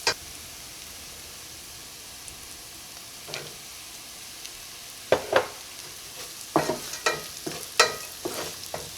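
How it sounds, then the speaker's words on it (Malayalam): Coconut pieces fry with onions in a pan for kadala curry, with a steady sizzle under repeated scraping stirs of a spatula that come closer together and grow louder toward the end. "ഇതിലേക്ക് നമുക്ക് തേങ്ങക്കൊത്ത് ചേർക്കാം"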